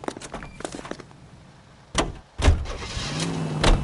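A car in the video game L.A. Noire, with a door thud, an engine starting and revving, and a second door slam, all fairly close and loud with a faint hum between.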